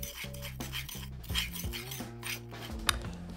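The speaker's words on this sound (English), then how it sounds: "mix it with a spoon" A spoon mixes a dry no-added-sugar ranch rub with a dash of rapeseed oil into a paste for wild sea bass, giving close, scraping and rasping strokes with light metallic clinks and scrapes against the dish.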